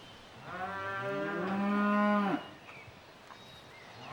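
A cow in a barn gives one long, loud, close moo while the herd is being fed mixed feed, the call rising and holding before cutting off, followed by quiet barn ambience.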